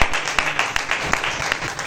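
A church congregation claps for Jesus at a charismatic gathering in Bobo, with quick, dense applause from a crowd that starts loud and keeps going for a moment.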